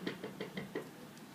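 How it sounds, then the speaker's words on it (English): Someone knocks on a farmhouse door: five quick, evenly spaced raps heard close and fairly soft, with no talking. "So he walks up to the farmer's house and he knocks on the door."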